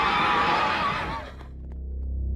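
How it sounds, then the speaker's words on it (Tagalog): A horse whinnies loudly as an audio-drama sound effect in a Filipino aswang horror story, a bright harmonic neigh that trails off after about a second into a low rumbling background. "Malalasap nila ang bangis ng isang kabayo!"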